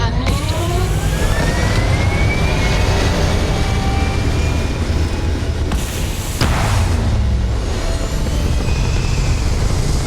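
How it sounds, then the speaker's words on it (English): A spaceship lifting off in the Starfield video game: a continuous, loud engine roar with rumbling low end and rising whine, steady throughout with a brief sharp burst midway. "We have liftoff."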